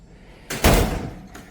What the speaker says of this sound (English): This fool put me out and slammed the door.